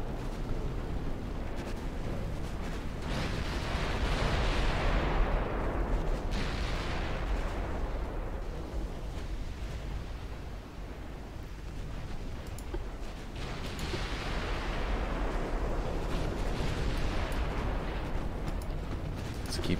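Naval guns fire in a warship battle in Ultimate Admiral Dreadnoughts, a steady dense roar of distant cannon blasts and rumbling explosions that swells and eases over the whole stretch, with no voices.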